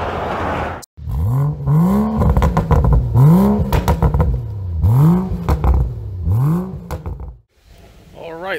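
A Honda Civic engine running without oil cranks and labours in repeated rising surges of about a second each, a loud near rhythmic whir-and-clatter that cuts out briefly at the start and near the end.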